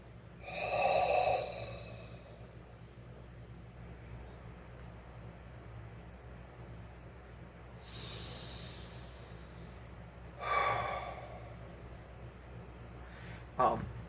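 Deep abdominal billows breathing during a karate complete breath kata: three or four loud, hissing breaths come close to the mic, separated by long quiet gaps.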